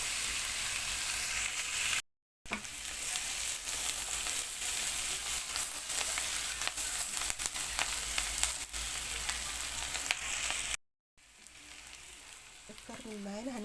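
Onions frying in butter in a pan give a steady, close sizzle that runs nearly the whole time, broken by two brief silent gaps, with a faint bit of clatter near the end.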